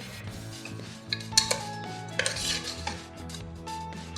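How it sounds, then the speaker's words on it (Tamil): A utensil scrapes and stirs tomato masala in a pan, with occasional metallic clinks against the rim and a soft background hum, close by and moderate. "இப்போது இந்த தக்காளி இந்த மசாலா எல்லாம் நல்லா குக் ஆகிற வரைக்கும் நம்ம வதக்கி விடலாம்."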